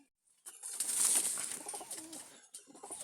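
Pigeons from a breeding pair coo softly at close range in a loft, a low murmuring coo over light rustling, with a brief pause before it resumes.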